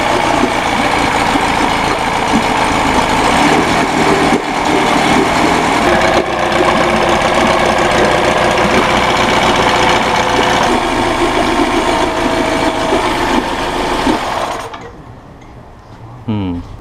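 A 1983 Honda B100 10hp outboard motor running steadily for a long stretch with a busy mechanical chatter, then cutting out near the end and leaving quieter sounds behind.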